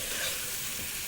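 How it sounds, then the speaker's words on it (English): Beef and fat frying in a pan for a French country casserole, a steady loud sizzle and spitting crackle filling the moment with no voices. "Now that wants really a little bit longer frying"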